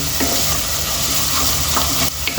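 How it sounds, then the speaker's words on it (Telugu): Onions frying in a pan for stuffed eggplant curry, a loud, continuous sizzle close up with a few soft scrapes from stirring and no talk. "ఉల్లిపాయలు ఉల్లిపాయలు మంచిగా ఫ్రై చేసుకోవాలండి"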